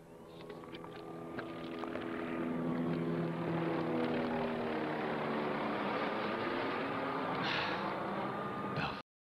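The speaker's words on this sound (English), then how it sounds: "They even sent out a helicopter for you." A helicopter flies in a police-themed FNAF VHS tape: a steady, droning rotor and engine hum holds at an even level for about nine seconds, then cuts off abruptly.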